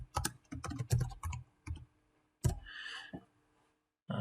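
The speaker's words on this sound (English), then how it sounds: "You type in your name" Someone types a name on a computer keyboard, close clusters of quick key clicks in two bursts separated by a pause, with a brief whirring sound near the end.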